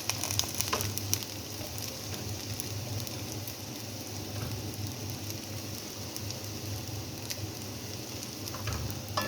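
Broccoli frying in a pan for a Chinese-style dish, a steady crackling sizzle with scattered sharp pops, moderately close and continuous throughout with no talking.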